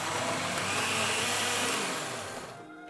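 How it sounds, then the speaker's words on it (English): A blender whirs at high speed, smoothing a bulgogi marinade of blended ingredients and water. The loud, steady roar holds close for most of the stretch, then winds down as the motor slows. "pour it all out into a blender and blend until completely smooth."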